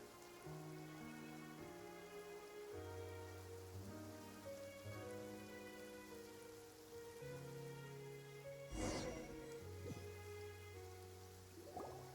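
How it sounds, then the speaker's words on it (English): Steady rain falls in the video game Genshin Impact, a soft continuous patter beneath sustained game music, with one sharper splash or burst near the end. "It's been raining non-stop for a few days now."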